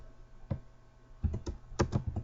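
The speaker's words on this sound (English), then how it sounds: "I'll even prove it by typing in some text here" Keys tapped on a computer keyboard while text is entered into a program, a few scattered clicks followed by a denser burst of quick keystrokes, close and clear over a quiet background hum.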